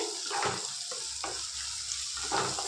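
Onions fry in oil with a steady sizzle, occasional stirring scrapes and soft bursts of crackling, fairly quiet and with no voices.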